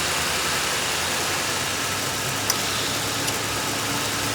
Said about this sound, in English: Okay, AC compressor engaged.